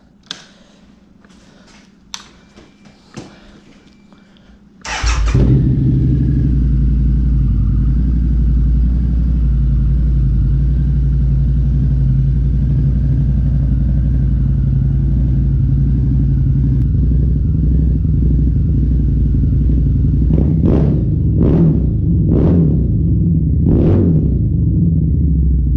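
A Harley V-Rod Muscle with a Vance & Hines slip-on exhaust fires up after a few clicks, then idles in a loud, deep, steady rumble close by, with a series of short throttle blips near the end.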